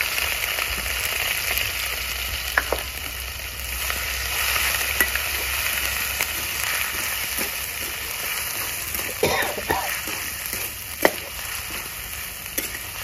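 Ginger garlic paste hits hot oil with cashews in a pan while Dragon Chicken is being cooked. A steady close sizzle hisses throughout, broken by occasional clicks and scrapes of stirring.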